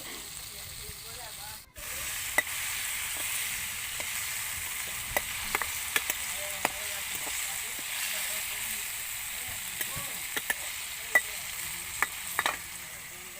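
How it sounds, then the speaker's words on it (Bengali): Chicken fries in a pan over a clay wood-fired stove with a steady close sizzle and hiss, punctuated by small crackles and stirring clicks, after a brief dip near the start. "তো ভাজা হয়ে গেছে এই তো আর একটু হলে পরেই তারপরে নামিয়ে নেব"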